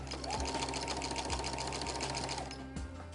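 Brother NX-200 computerized sewing machine stitching steadily with a walking foot at moderate speed, a continuous close mechanical whir with rapid needle rhythm, briefly easing near the end.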